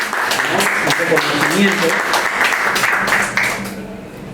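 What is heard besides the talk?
applause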